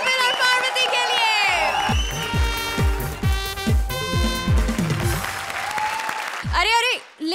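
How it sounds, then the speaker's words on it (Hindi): Studio audience applauding on an Indian TV comedy show, loud and sustained clapping mixed with music and voices, ending with a brief pause before speech resumes. "जोरदार तालियां कपिल और पार्वती के लिए"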